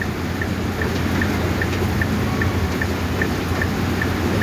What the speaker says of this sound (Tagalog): Tuloy-tuloy ang ulan dito sa amin sa Olonga po. Kanina pang umaga.